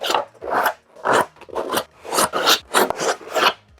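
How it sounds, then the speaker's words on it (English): Hand-sanding the edges of a stormtrooper armour piece, likely the codpiece: about eight quick rasping strokes in an even back-and-forth rhythm, close and fairly loud, with no talking. "So I'm just going to sand the edges on that."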